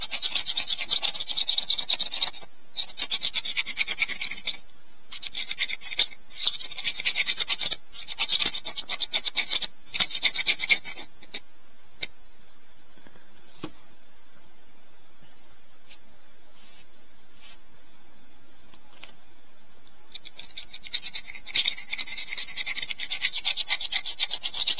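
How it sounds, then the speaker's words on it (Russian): A small needle file scrapes grime from a Soviet folding hunting knife in quick, raspy, close-up bursts with short pauses, then fades to near silence before the scraping resumes. "То есть берем и просто вот вычищаем всю эту грязь оттуда"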